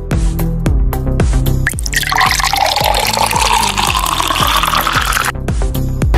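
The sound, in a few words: pouring a shot of liquor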